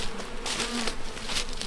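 Bees buzzing around a hornet trap at an apiary, a steady close insect drone with faint tonal hum filling the whole moment.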